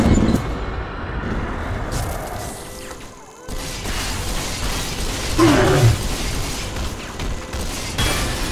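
Mechanical hacking of a security turret in Bioshock 2, a run of clicking, ratcheting gear sounds and metallic clunks at steady game volume, with a brief dip partway through before the whirring mechanism resumes.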